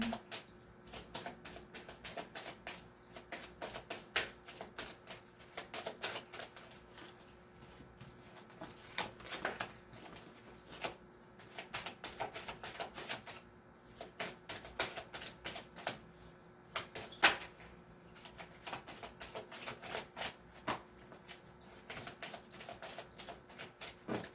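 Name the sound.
tarot cards being shuffled and drawn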